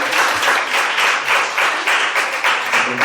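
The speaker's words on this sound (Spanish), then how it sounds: "Un aplauso." Audience applause in a classroom or talk setting, a short burst of steady rhythmic clapping from a group, fairly close and loud, lasting about three seconds with no talking over it.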